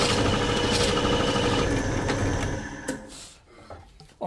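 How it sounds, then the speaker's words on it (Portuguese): Power drill boring a hole through reclaimed wood in a carpentry workshop, a loud steady whirring grind for about two and a half seconds that then cuts off, leaving quieter handling noises. "Vamos fazer um furo aqui agora."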